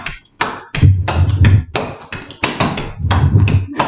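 Clogging shoe taps from a clog dance, sharp percussive clicks and stamps in quick, uneven bursts of rhythm, loud and close with no voices.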